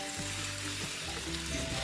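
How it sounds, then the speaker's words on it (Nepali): Pork pieces sizzle and fry in a hot pan as they are stirred, a steady close crackle with no talking. "अब भने बङ्गुरको मासु एड गर्ने बेला भएको छ।"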